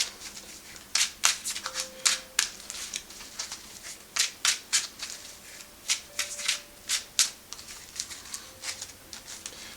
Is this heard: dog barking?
no